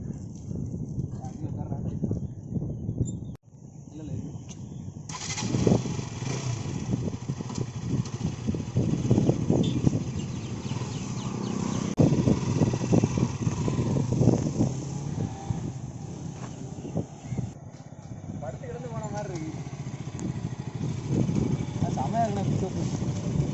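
A KTM RC 200 BS6 motorcycle out on a ride, its engine droning steadily under strong wind rush for most of the run while a person talks over it.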